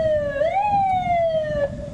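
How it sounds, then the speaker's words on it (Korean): A loud wailing illegal-parking enforcement siren close by, its pitch sliding up then slowly down in a single sweep, with faint traffic rumble underneath. "사이렌 소리와 함께 불법 주정차 단속 안내가 나옵니다."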